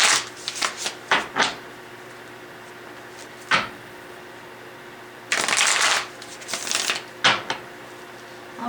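Tarot cards being shuffled up close, several quick riffling bursts separated by pauses, with one longer flurry near the end; no one speaks.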